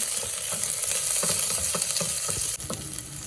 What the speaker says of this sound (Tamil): வெங்காயம் பூண்டு ஸோ எல்லாத்தையும் போட்டு எனக்கு வேக ஒரு ஐம்பது வீதம் வெந்தால் போதும்